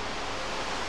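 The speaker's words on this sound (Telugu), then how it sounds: "సో ఆ వాటర్ ఫాల్ సౌండ్, పక్షుల సౌండ్స్ అవన్నీ మీరు కూడా వినొచ్చు." A waterfall near Tbilisi, Georgia roars as a steady, dense wash of water noise, continuous and fairly close, with no voices.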